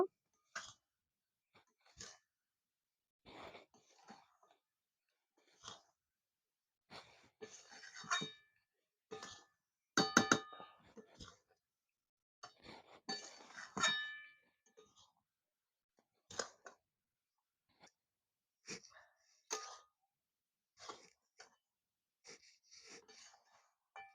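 A spoon works gram-flour boondi for motichur laddu into sugar syrup in a pan, giving a close series of irregular clinks and scrapes separated by short quiet gaps, with no talking.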